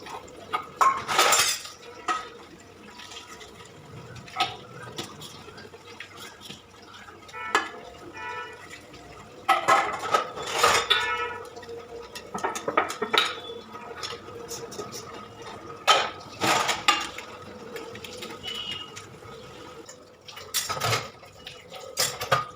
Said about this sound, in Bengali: বাসন টাসন সব মেজে নিয়েছি